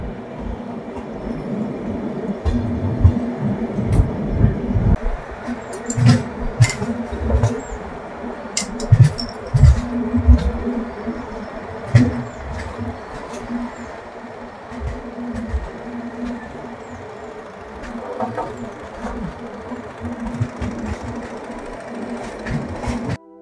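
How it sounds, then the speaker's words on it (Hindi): Indian Railways 16508 Jodhpur Express rumbling slowly into a siding near Satara, with steady rail noise and irregular clicks and clanks from the wheels over the track, sounding close and continuous. "ये हमारी ट्रेन जा रही है साइडिंग में"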